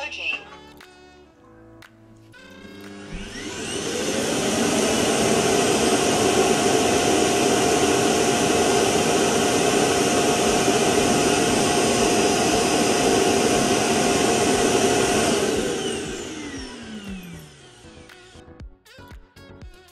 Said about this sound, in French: Vous allez voir, quand l'aspirateur s'auto-vide,